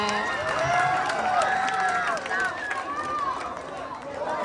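Pageant audience at Queen of Ilagan 2025 cheering and clapping, a loud crowd roar with many overlapping high shouts and whoops sustained throughout, applause mixed in beneath.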